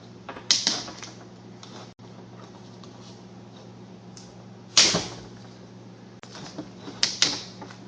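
Torx screws being removed from an automotive ABS motor module, heard as close, sharp mechanical clicks and ratcheting bursts from a screwdriver separated by quieter gaps of handling noise.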